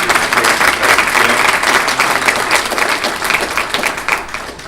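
A room of attendees at a Washington County Chamber of Commerce breakfast gives a presenter a round of applause, dense sustained clapping that carries on loudly for several seconds before starting to fade.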